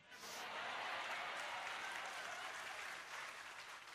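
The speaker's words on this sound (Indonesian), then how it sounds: "Jangan tepuk tangan dulu, sedih nanti ceritanya." A brief burst of audience clapping at an Islamic religious lecture, dense and even, holding for a few seconds before starting to thin out.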